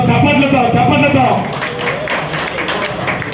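Clapping from a crowd at a felicitation ceremony where appointment letters are handed out. The applause rises from the start and carries on for several seconds, mixed with a voice over a PA and steady crowd noise.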